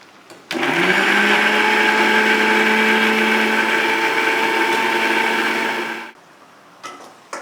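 A mixer grinder blends tomatoes into a paste for a Tamil black urad dal kuzhambu. Its loud, steady motor whir runs continuously for about five and a half seconds, then cuts off abruptly, leaving faint kitchen clatter.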